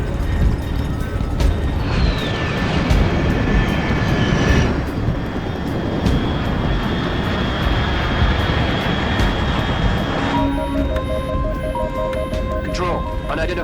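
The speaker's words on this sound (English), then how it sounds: "Control, unidentified aircraft detected," A fast aircraft roars overhead in Metal Gear Solid Delta: Snake Eater, a loud steady engine drone that runs through the whole clip beneath game sounds and a spoken radio call.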